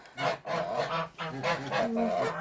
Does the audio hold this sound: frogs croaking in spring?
no